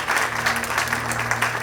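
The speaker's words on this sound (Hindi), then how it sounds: "एक बार तालियां बजा करके स्वागत कीजिए" An audience at a Bhaktamar healing gathering in Dubai applauds to welcome a speaker, with dense, even clapping filling the room throughout, loud and close.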